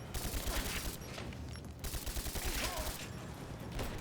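Dense bursts of rapid automatic gunfire from a firefight in the video game Rise of the Tomb Raider, continuous and fairly loud, with overlapping shots rattling throughout.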